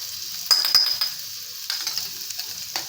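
Onions, green chilies and ginger garlic paste are stirred in a pan, giving a soft frying hiss with a few sharp metallic clinks and scrapes at irregular moments.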